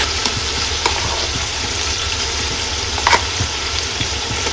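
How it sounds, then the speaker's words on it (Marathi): Onions fry in a pan for biryani as ginger, garlic and chili paste goes in: a steady, close sizzle with a few soft stirring knocks and clinks, and no voices. "कांदा आता हळूहळू थोडा पिंक कलरचा झालेला आहे. आता आपण याच्यात टाकणार आहोत आपली आलं, लसूण आणि मिरचीची पेस्ट."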